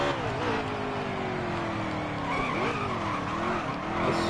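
Race car in NASCAR Heat 3 braking hard and sliding, a continuous loud engine drone with wavering pitch and tire skid noise throughout.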